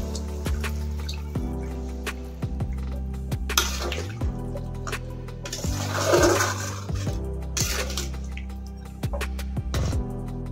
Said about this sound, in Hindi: एबे एतरे ग्रेवी अनुसार पानी देदबा